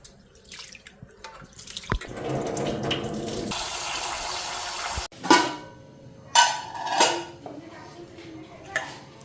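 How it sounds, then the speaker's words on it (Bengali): Rice is washed in a pot under a running kitchen tap: grains rub and swish in the water, the tap gushes steadily for a stretch, then the pot clanks and water is sloshed out in several bursts. "তো এইদিকে চালটাও ধোয়া নিছি এদিকে"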